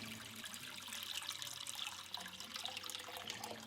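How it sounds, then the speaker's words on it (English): Three cups of water pour steadily into a cooking pan, a faint continuous splashing trickle with no speech. "Take your pan, add 3 cups of water"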